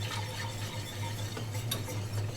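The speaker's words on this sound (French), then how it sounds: "on mélange bien la farine et le beurre et on rajoute notre lait entier" Flour, butter and whole milk sauce being stirred in a pan, with a soft continuous scraping swish close up and faint bubbling, no voices over it.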